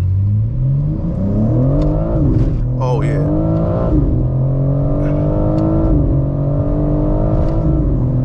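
Full-throttle pull in a Dähler-tuned G82 BMW M4 Competition, the engine note climbing loudly through the revs with a quick gear change, heard from inside the car while a voice speaks briefly.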